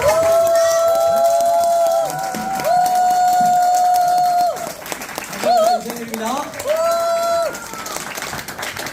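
Applause and cheering from a crowd greet a company president at a corporate business event, mixed with loud sustained stage music and a speaking voice, the clapping forming a broad background under the tones.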